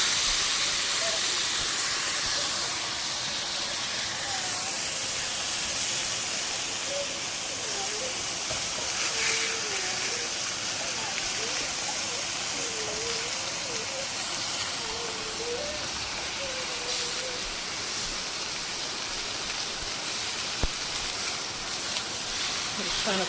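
A steak sears in a hot pan on a stovetop, giving a steady, loud sizzling hiss that stays even throughout, with a few faint bubbling pops riding on top and no talking over it.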